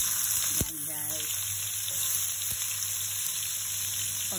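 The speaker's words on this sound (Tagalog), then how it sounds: "dyan na ako sa pinagprituhan magigisa" Assorted vegetables sauté in leftover frying oil, a constant close sizzle with a brief stir and clink early on, no talking.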